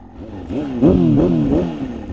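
An engine is revved in a few quick bursts, its pitch rising and falling as the throttle is blipped, close and fairly loud.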